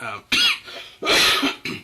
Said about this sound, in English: See, just a little cough.